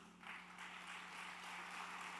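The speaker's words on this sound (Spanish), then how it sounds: "Denle un aplauso al Señor." A church congregation applauds, a sustained wash of many hands clapping that swells after a brief moment and then holds steady, soft and somewhat distant beneath a low steady hum.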